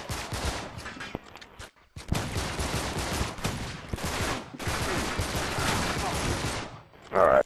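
Gunfire in Uncharted 3 during a Borneo co-op match on Crushing difficulty, dense rapid bursts of automatic fire that run almost continuously, with a brief pause partway through.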